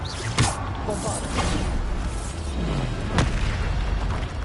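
Bombardo spell blasts from the Hogwarts Legacy video game boom amid steady combat noise, with sharp bursts near the start and again around the three-second mark.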